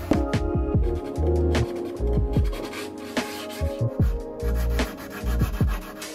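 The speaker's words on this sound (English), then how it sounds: "all I needed was this small sanding tool from Gator to get rid of the old finish" A small Gator sanding tool scrubs the old finish off a wooden nightstand, giving close, steady rasping strokes with short pauses between passes, and a faint high whine shows up in places.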